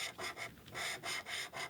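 A bone folder is rubbed across vellum paper in a run of quiet rasping strokes, roughly five back-and-forth rubs in steady rhythm, close up with no voices.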